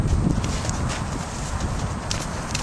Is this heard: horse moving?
yes